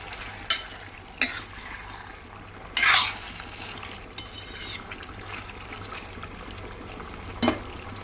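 Chicken simmers quietly in its own liquid with a soft, constant bubbling, broken by a few sharp clinks of a utensil against the pot.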